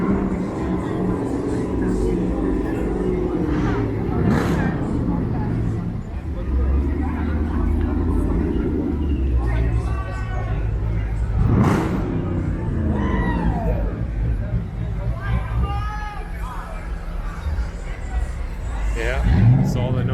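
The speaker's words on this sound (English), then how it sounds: "all the noisy cars are out now" Cars rumble and roar past on a busy street in Clifton Hill, Niagara, after midnight, engine noise swelling and fading under steady crowd chatter and nearby talking.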